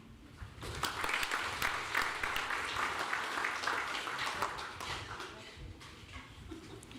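Audience applause for the candidates at a property owners' association annual meeting, a dense crowd clapping steadily and loudly for several seconds before tapering off.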